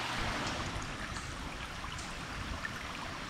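Soft, continuous rush of Yellow Springs Creek flowing through the Glen Helen Nature Preserve, a faint steady babble of water with no voices.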